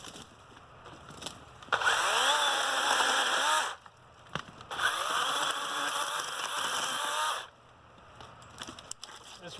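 A DeWalt or Milwaukee battery chainsaw cuts small pieces of wood about 2.5 inches thick, two loud whining cutting passes of a couple of seconds each with the motor pitch bending under load, clicks and clatter in between.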